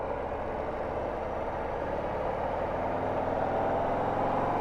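Engine of a 2025 Harley-Davidson Street Bob motorcycle pulling away from a stop, a steady, loud, close drone that builds slightly over several seconds with no voices.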